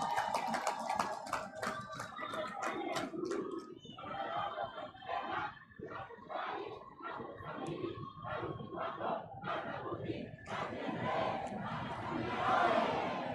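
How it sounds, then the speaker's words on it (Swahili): A large outdoor crowd at a World AIDS Day event in Lindi, Tanzania, attended by the president, breaks into loud sustained clapping mixed with cheering and shouts, with bursts of voices rising and falling throughout. "Piga makofi mengi kwa Dr. Samia Suluhu Hassan."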